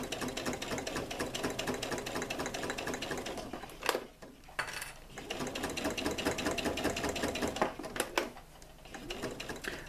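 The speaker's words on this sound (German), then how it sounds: "Und ich nähe von dieser Seite, weil ich hier die Naht gut sehen kann, die ich schon gemacht habe." A domestic sewing machine stitches a seam on a fabric shopping bag, its steady rapid needle clatter running nearly throughout, with two short pauses around the middle and near the end before resuming.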